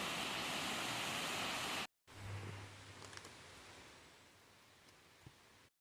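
A waterfall in New York gives off a steady, loud, broadband rush of falling water. After a brief cut, a quieter stretch follows with a low hum beneath the spray.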